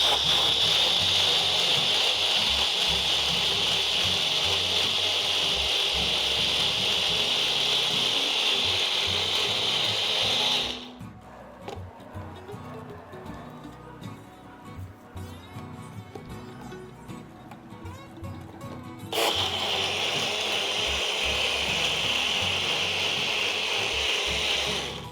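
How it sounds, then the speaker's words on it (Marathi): A kitchen mixer grinder blends about 300 g of pineapple with a cup of coconut and a pinch of asafoetida. It whirs with a loud, steady grinding roar for about ten seconds, goes quiet for a while, then runs again. "आता हे बारीक वाटून घेऊया."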